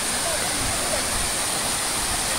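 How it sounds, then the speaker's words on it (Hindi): The Dudh waterfall near Palghar roars with steady, dense rushing water, loud and close, with the flow filling everything and no gaps or distinct voices above it. "आ गए हैं दूध वाली वाटरफॉल"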